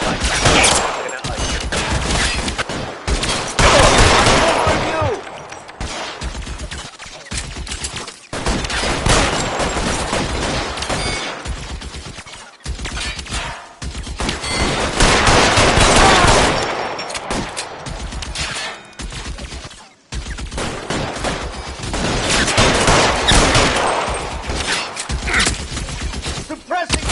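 A shootout in the video game L.A. Noire: sustained, loud bursts of gunfire crackle almost without pause, with brief lulls between volleys and occasional shattering impacts.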